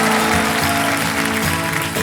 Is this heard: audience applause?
yes